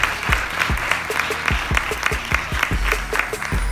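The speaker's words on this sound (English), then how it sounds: "So while you're clapping, let's give it up to Mission Theater as well." Audience at a movie screening in the Mission Theater in Portland claps steadily, with a few close, sharp individual claps standing out over the broader applause.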